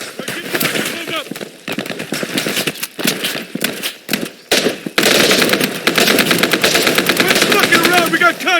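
Rapid automatic gunfire rattles through a firefight on a modded map in Operation: Harsh Doorstop, loud and dense bursts with brief gaps, intensifying into near-continuous fire, with voices shouting commands underneath.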